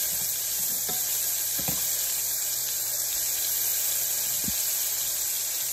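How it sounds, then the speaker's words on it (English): Steak frying in a pan, a steady broad sizzle with a few sharp grease pops scattered through it, close and fairly loud with no talking. "Make sure you pat dry your meat really good after you wash it, or the grease will be popping."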